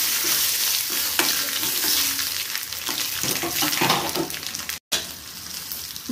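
Dried red chillies and a pinch of asafoetida fry in hot oil for a greens and lentil dal, a loud hissing sizzle with a spatula stirring and scraping, broken by a brief silent gap near the end.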